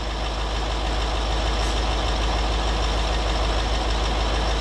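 A Range Rover L322 TDV8 diesel engine idles steadily nearby, a continuous low rumble with an even mechanical clatter running unbroken and loud throughout.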